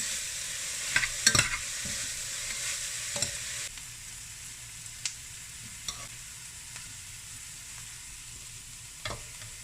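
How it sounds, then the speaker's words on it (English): Vegetables stirred in a hot pot with a low, steady sizzle, broken by a few sharp clinks and scrapes of the spoon against the pot, mostly near the start and spread thinly across the rest. "I put half of them right now. I'm just going to stir."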